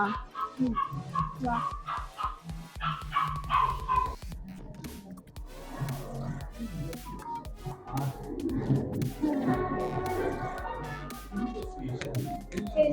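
Several dog barks and yips break out amid a busy room, mixed with background voices and household noise.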